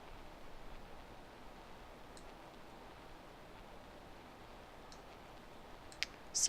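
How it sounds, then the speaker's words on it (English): A computer mouse gives a few faint, sharp single clicks, spaced a couple of seconds apart, over a quiet room hiss. "So we're going to right click again"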